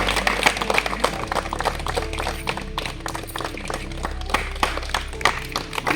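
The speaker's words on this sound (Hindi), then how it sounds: "ताली बजती रहनी चाहिए।" Sustained applause from a crowd gathered at a medical camp in a remote area, many hands clapping in a busy uneven patter that carries on steadily, with some faint voices in the mix.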